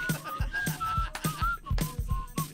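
A person whistles a short melody in repeated phrases, close and moderately loud, over low thumping beats and a busy background.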